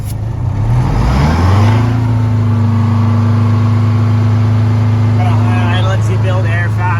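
Detroit 8V71 two-stroke diesel engine with an air throttle revving up close and loud, rising quickly to a steady high droning roar that holds through the clip.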